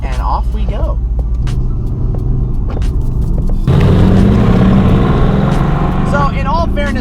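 A Mercedes AMG GTR engine rumbles at idle from inside the cabin, then swells into a louder, deeper roar as the car pulls away in race mode, with brief voices near the end.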